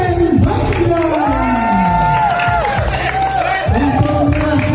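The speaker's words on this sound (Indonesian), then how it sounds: "tepuk tangan meriah untuk Kabupaten Bangka" Crowd applauding and cheering for the winning district at a Kuntau martial arts competition award ceremony, noisy and continuous, with loud voices and shouts over the clapping.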